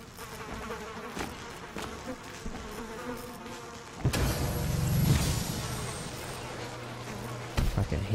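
Bees buzz around in the video game Valley, a layered insect drone that persists throughout, growing louder and fuller midway as the swarm comes closer, with no one speaking.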